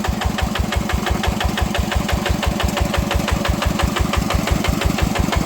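Tractor engine modified to drive a water pump, chugging steadily at idle with a fast, even knocking beat, loud and close, running alone without talk.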